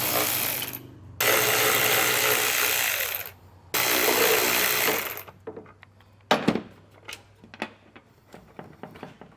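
10mm taillight bolts being removed on a 2020 Toyota Tacoma with a power tool: two long, loud whirring bursts, followed by sharp ratcheting clicks and clanks at close range.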